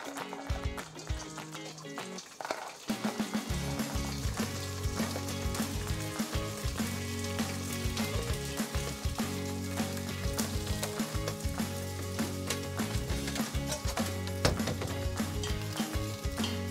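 Pieces of pork skin fry in hot oil, a dense, loud and continuous sizzling and bubbling that starts after a short quieter moment and carries on steadily throughout.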